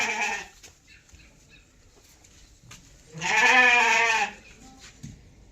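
A single long, wavering sheep bleat, fairly close and loud, with quieter rustling and faint background sounds before and after.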